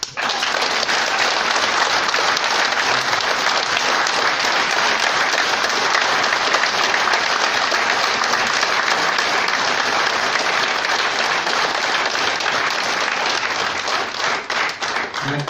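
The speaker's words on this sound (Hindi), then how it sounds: "दिल्ली वाली तालियां चाहिए।" A large audience at a Nexmoney digital business event in India gives sustained, dense applause, steady and loud for about fifteen seconds, easing only slightly at the end.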